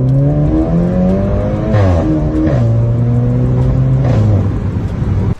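A Volkswagen Polo GTI engine revs hard and loud, its pitch climbing and dropping through several throttle blips before settling into a strong, steady idle roar close by.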